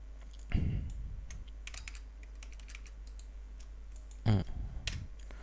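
Someone types a cd command on a computer keyboard in short clustered bursts of clicky keystrokes, with a couple of heavier key presses standing out, over a low steady electrical hum and otherwise quiet room.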